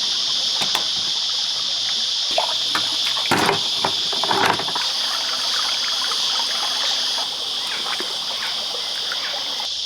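Creek water flowing at a shady swimming spot in Abercrombie River National Park, Australia, a continuous trickling babble with a few splashes and knocks midway, under a steady high insect chirring.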